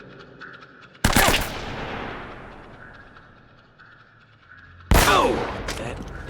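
Gunfire in the PlayStation action game Uncharted: Drake's Fortune: two loud, sharp bursts of shots about four seconds apart, each decaying into a long rumbling tail over quiet game ambience.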